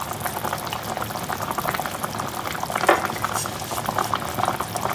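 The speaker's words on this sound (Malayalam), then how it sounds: "കറി നന്നായിട്ട് തിളച്ച് വന്നിട്ടുണ്ട്" Seer fish curry with curry leaves and coriander bubbles in a pot, a soft, continuous simmer of popping bubbles up close, with one louder burble partway through and no speech.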